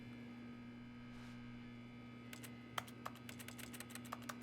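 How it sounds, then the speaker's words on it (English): Quick, irregular clicks of computer keyboard typing begin partway through, sitting over a steady electrical mains hum in a quiet room. "Strange how I still make keyboard sounds."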